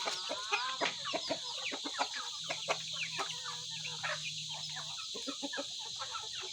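Chickens clucking nearby in a farmyard setting, a busy run of short repeated clucks and calls, fairly close and steady, with no clear talk over them.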